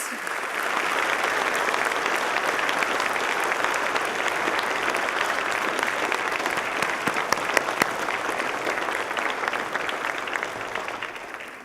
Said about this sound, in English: please give a warm round of applause to all of our awardees